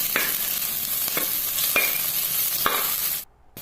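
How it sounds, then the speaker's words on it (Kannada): Crushed garlic, green chilies and a small onion fry in a pan for a silver fish curry, a continuous close sizzle punctuated by regular spatula scrapes, cutting off briefly near the end. "1-2 ಹಸಿಮೆಣಸಿನ್ಕಾಯನ್ನು ಸಹ ಸೇರಿಸ್ಕೊಳ್ತಾ ಇದ್ದೀನಿ ಟೇಸ್ಟಿಗಾಗಿ. ಹಾಗೆ ಒಂದು ಸಣ್ಣ ಈರುಳ್ಳಿನೂ ಸಹ ಹಾಕ್ಬಿಟ್ಟು ಎಲ್ಲವನ್ನು ಹಾಕಿ ಫ್ರೈ ಮಾಡ್ಕೊಳ್ಳೋಣ."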